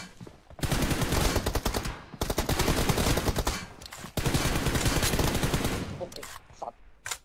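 Bursts of rapid video game gunfire in a one-on-one match, loud and close, coming in several long volleys separated by short pauses, with a voice talking in between.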